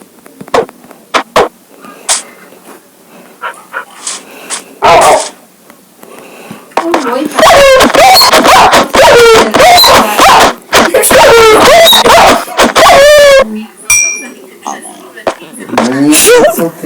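A dog in a video game barks and whimpers in short bursts that rise and fall, heard up close amid game sounds, while several voices talk over it for much of the stretch.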